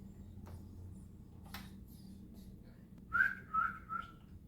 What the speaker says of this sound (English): Running code with snaps and whistles.